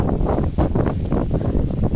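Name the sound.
cool wind blowing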